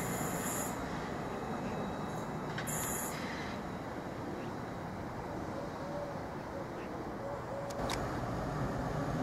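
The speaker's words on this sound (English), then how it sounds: "is continuing its journey to Felixstowe. Very rapidly accelerating away." A heavy intermodal freight train bound for Felixstowe rumbles steadily past Derby Road Station at a distance while accelerating away, a continuous broad roar with faint squeals and a brief high beep.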